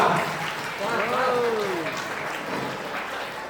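A crowd applauding at a felicitation ceremony during a charity event where 100 children receive money and books. The clapping is steady, dense and fairly loud throughout, with a brief rising tonal voice or whistle in the middle.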